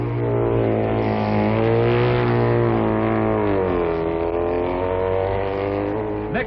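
A 1960s Isle of Man TT racing motorcycle pulls out of Ramsey Hairpin toward Waterworks Corner, its loud, close engine a steady, throaty drone that climbs and wavers in pitch as it accelerates, with no talking.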